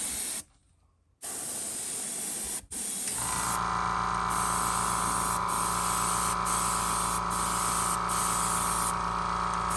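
An airbrush sprays candy paint onto a swimbait lure, first in short bursts and then as a loud, steady hiss with a constant compressor-like drone and brief breaks.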